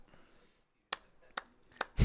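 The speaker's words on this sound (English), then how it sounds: "Clappy, clap, clap." Three sharp, separate hand claps land about half a second apart, close and crisp, after a faint murmur of room noise.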